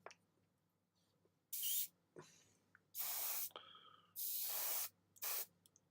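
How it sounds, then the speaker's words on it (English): A clogged hobby airbrush gives four short bursts of hissing spray up close, each lasting about half a second to a second, with quiet pauses between them. "My airbrush is clogged to the dickens."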